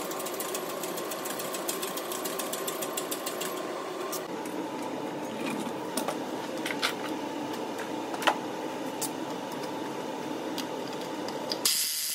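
An impact gun hammers away at a 2.0-liter turbocharged direct-injection Audi/VW engine during teardown, giving a steady, loud mechanical rattle and buzz for about twelve seconds with sharp clicks scattered through it, close to the mic and without speech.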